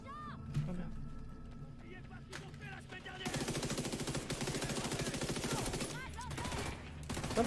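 Bursts of automatic weapon fire in The Division 2, loud rapid rattling that begins after a few scattered shots and runs continuously, with a player's voice talking over the early part.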